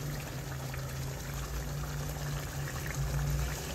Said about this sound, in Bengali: এখন গরম জলটা দিয়ে দিন, অল্প একটু দিন, বেশি না।